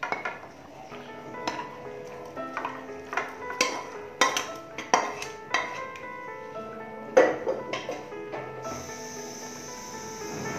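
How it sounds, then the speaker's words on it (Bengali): Hilsa fish pieces are tipped into a pot of pilaf over a lowered flame, making a run of close metallic clinks and scrapes, with a sustained tone near the end. "এই পর্যায়ে আমি মাছগুলি এইভাবে ঢেলে"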